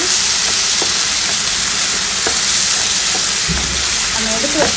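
Chopped tomatoes go into mutton masala frying in a pan for mutton sukka, giving a loud, steady sizzle and hiss with occasional stirring scrapes throughout.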